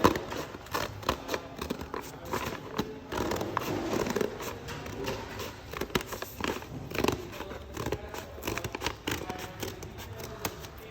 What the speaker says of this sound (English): use your scissors to cut along that line